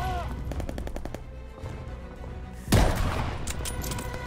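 Sniper gunfire in the video game Call of Duty Vanguard on Xbox Series X: a single loud, sharp shot cracks out midway, with a short reverberating tail over game ambience and earlier rapid metallic clicks.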